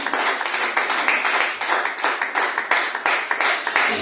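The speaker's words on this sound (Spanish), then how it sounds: "¿Cuántos de ustedes aplauden al Señor en esta noche?" A church congregation claps along in a fast, steady rhythm, many hands together, loud and close with no talk over it.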